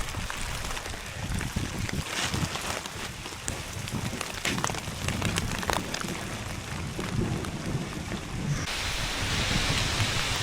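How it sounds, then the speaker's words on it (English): Hail and rain pour down in the Himalayas of Nepal as a loud, dense, continuous hiss and clatter, close and steady throughout with no talking. "now it's hail and rain, I think"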